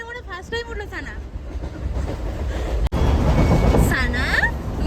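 A local train running, carrying passengers, gives a steady broadband rumble that is loud and continuous throughout, with a brief dropout near the middle and voices talking over the train noise.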